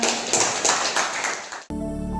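A crowd claps steadily in dense applause at a primary school quiz competition for under two seconds, then cuts off abruptly as music begins.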